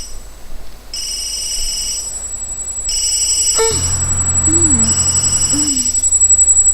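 A mobile phone ringtone in The Sims video game plays as a loud, repeating electronic melody of sustained high tones, joined partway through by brief sliding chirps, with low buzzing underneath.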